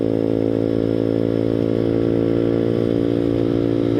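Grom clone motorcycle with a ZS190 engine cruising along, a steady droning single-cylinder buzz at constant throttle, close and loud with no voices.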